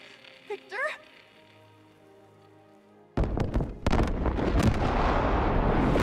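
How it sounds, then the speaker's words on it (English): A massive explosion in a bay area in Batman Arkham Knight on PS4 erupts suddenly after a stretch of quiet talk, a loud sustained roaring blast with crackling debris and rumbling that fills the rest of the scene. "Massive explosion in the bay."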